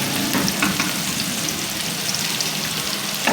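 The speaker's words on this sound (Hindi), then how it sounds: "अच्छा सा स्टर करूँगी ताकि थोड़ा सा गार्लिक का फ्लेवर जो है वो इन्हांस हो जाए" Garlic and onion fry in a pan for chicken jalfrezi, a dense, even sizzle running throughout with soft stirring scrapes and a few faint clicks, close and steady.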